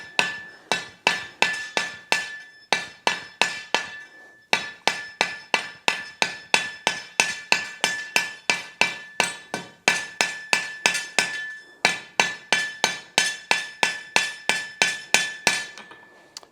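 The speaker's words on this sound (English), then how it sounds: "I'm going to switch to a lighter hammer to start mushrooming that top" A lighter hammer forges hot steel, mushrooming the top of a logdog: sharp, ringing metallic strikes in steady rhythmic bursts with brief pauses between groups, loud and close with no talking.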